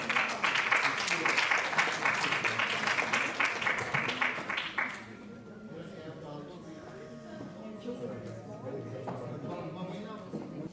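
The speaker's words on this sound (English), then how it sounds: "Round of applause for Mabina." Applause from the audience at a peace symposium, a brisk burst of clapping that fades away after about five seconds into a quieter room with murmuring voices and faint background sounds.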